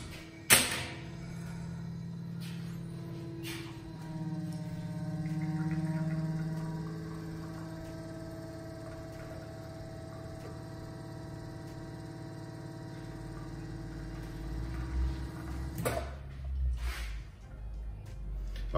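An espresso machine pulling a fast-running shot of Red Brick espresso: a steady pump hum and vibration that swells and then settles, with a click at the start and a louder mechanical rumble near the end.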